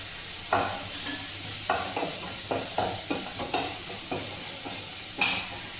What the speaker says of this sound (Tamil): வெங்காயம் வதங்கிறதுக்கு கொஞ்சோண்டு உப்பு போட்டுக்கிறேன்